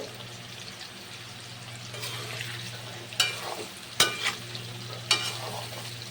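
Carrots, beans, capsicum and potatoes stirred and fried in a pan for navratan pulao, a soft continuous sizzle broken by several sharp scraping clinks of a spatula against the pan, close up with no talk.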